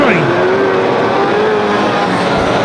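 Banger race cars from the Unlimited 1500 class roar past on the Kings Lynn track, a loud, continuous engine drone with rising and falling revs. A commentator talks over the noise throughout.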